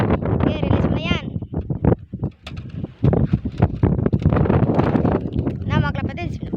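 Strong wind buffets the microphone in rough gusts while people talk loudly over it outdoors.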